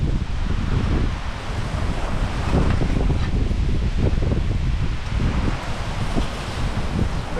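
Strong outdoor wind buffets and roars across the microphone in continuous loud gusts, with a rushing, surf-like texture and no speech.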